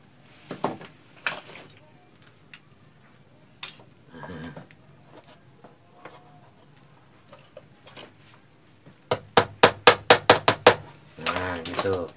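Hammer tapping cable clamps into place while wiring a three-pin AC socket, scattered sharp knocks early on, then a fast run of about eight loud, evenly spaced blows near the end, with no talk.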